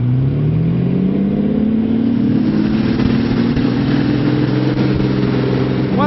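A Jaguar XKE sports car engine runs loud and close, a steady rumble whose pitch climbs slightly, then holds even, with no talking.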